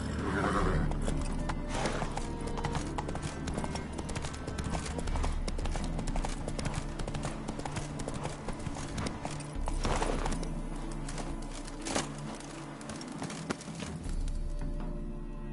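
Roach, Geralt's horse in The Witcher 3 video game, gallops with steady rapid hoof clip-clops close by, over a continuous wash of game ambience and occasional snorts.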